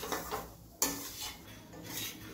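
Semolina (rava) roasting in ghee over a low flame, stirred with a spoon that scrapes the pan in slow strokes, with one sharp metallic clink against the rim amid a faint sizzle.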